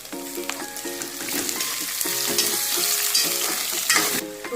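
Onion and potato fry in a pan with roasted coconut for sambar, a steady close sizzle with occasional stirring scrapes running throughout.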